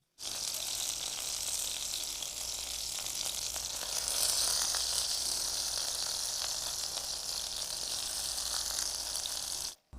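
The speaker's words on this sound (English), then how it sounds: "And we fry the other side." Thin chicken liver fritters frying in a pan, a steady, even crackling sizzle that holds at a constant level throughout with no talking.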